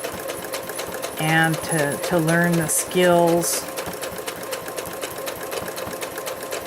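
A sewing machine runs steadily while stitching fabric for a potholder, giving a rapid, even mechanical ticking that continues throughout. A voice talks over it partway through.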